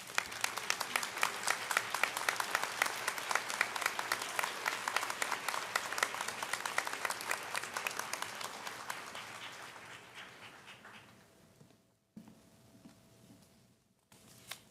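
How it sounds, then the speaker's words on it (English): Sustained applause from a large crowd at a university presidential investiture ceremony, dense and steady, fading out toward the end into quiet with a few last claps. "Faculty, please stand and applaud"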